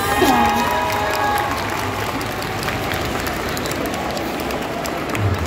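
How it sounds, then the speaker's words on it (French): An audience at a cosplay contest claps and cheers in a steady, fairly loud wash of crowd noise, with a voice briefly heard at the start. "on l'applaudit encore une fois"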